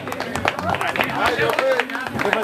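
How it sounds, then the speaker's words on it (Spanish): Guests at a quinceañera party clap for a youth mariachi band, a loose mix of handclaps with lively talking and voices over it. "¿y será que el mariachi se merece un aplauso?"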